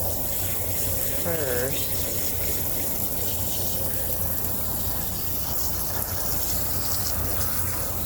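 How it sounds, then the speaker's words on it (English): Water pours steadily from a tap while dyed fabric is rinsed, a loud, continuous gush that fills the whole stretch, with a brief spoken word near the start. "I want to take a minute and rinse through some of this"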